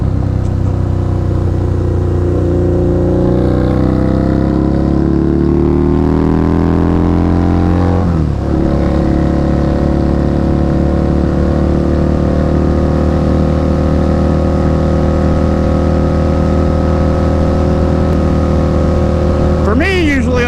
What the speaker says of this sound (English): I got tab exhaust, no baffles, so that's why it's a little bit loud.